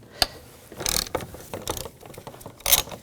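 A ratchet with a 13mm socket and long extension loosens a bolt on a Volkswagen Jetta at the brake master cylinder, giving several short bursts of close, sharp clicking pawl ratcheting with no talking.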